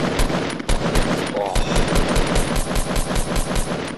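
Rapid automatic gunfire from the video game Fortnite, loud and dense bursts firing almost continuously, with a few voices talking over the shooting.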